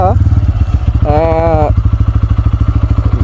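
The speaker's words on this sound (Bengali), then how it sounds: "সাউন্ডটা অনেক বেশি, ইঞ্জিনের সাউন্ডটা অনেক বেশি" A Bajaj Pulsar N160 motorcycle engine thuds at a steady low rhythm, loud and close, with a voice speaking briefly over it.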